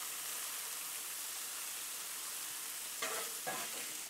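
Sausage sizzles on a hot Blackstone griddle, a steady soft crackle that runs throughout, with a couple of brief scraping stirs near the end and no talking.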